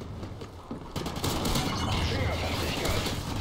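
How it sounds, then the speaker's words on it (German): In the video game Call of Duty: Ghosts, a grenade goes off amid a noisy burst of gunfire, followed by dense crackling battle noise, with someone talking over the game sound. "Nein, das war eine Granate"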